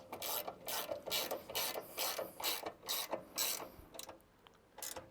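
A ratchet tightens a bolt on the cassette of a Cobra Fortis mower in quick repeated pawl clicks, about nine rapid ratcheting strokes, close and fairly quiet.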